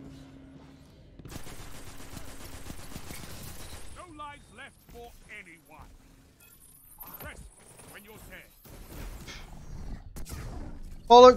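Gunfire in the video game Destiny during a PvP match: bursts of rapid shots and mechanical weapon sounds crackle intermittently, with someone talking over the action.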